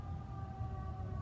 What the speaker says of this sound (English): you'll have to excuse the sirens behind me if you can hear those